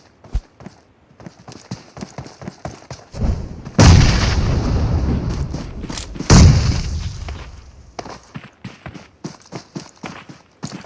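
In a video game, grenade explosions land as two heavy booming blasts a few seconds apart, each with a long rumbling tail, amid a stream of quick footsteps and clicking game sounds, loud and close.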